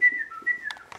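A single sustained whistle blown as a signal, one steady high tone lasting about a second, fairly clear against faint background noise and a short rustle at the end.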